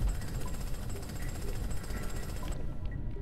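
A spider's drill in the Spider Cave of the video game Jak and Daxter: a loud, continuous rattling hammering that runs steadily for about two and a half seconds, then cuts off abruptly.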